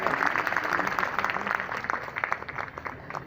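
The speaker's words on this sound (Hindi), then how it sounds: "इतने ऊर्जावान उद्बोधन के बाद जोरदार तालियां" Loud applause from an audience at a college annual function in India, following an energetic speech: a dense, steady wash of many hands clapping that stays strong throughout, with no voices standing out.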